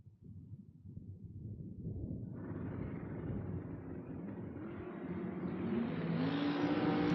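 Drag racing cars, including a 1967 Corvette, launch off the line at a drag strip, the engine roar building steadily from a low rumble into a loud, rising howl that keeps growing toward the end.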